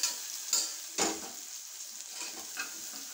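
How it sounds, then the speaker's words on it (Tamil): Ginger garlic paste with pepper, chili and cumin powder frying in a pan, a close, bright sizzle broken by a few sharp stirring scrapes near the start, with no talking. "இந்த இஞ்சி பூண்டு பேஸ்ட்டோடையே அரை ஸ்பூன் பெப்பர் தூள் அரை ஸ்பூன் வத்தல் பொடி ஒரு ஸ்பூன் சீரகத்தூள் இவ்வளோ போட்டு நல்லா வறுக்கணும்"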